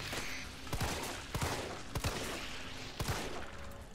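Several gunshots from the Resident Evil 3 Remake video game fire in an irregular sequence over a constant background rumble. Each shot is a short, sharp report, with roughly four or five in total.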